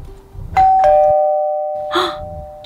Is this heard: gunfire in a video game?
no